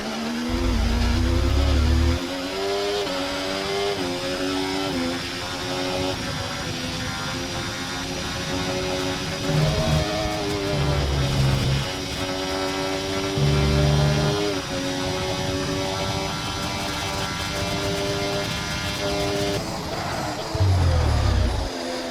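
F1 24 race cars on the final lap at a wet Spa, a continuous high engine whine with shifting pitch and gear changes, punctuated by brief low thumps.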